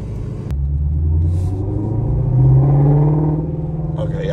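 Ford Shelby GT350 with a faulty exhaust, engine rumbling loud and close as revs climb and swell midway, then settle, with brief voices under the drone.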